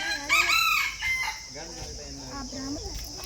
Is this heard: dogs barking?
no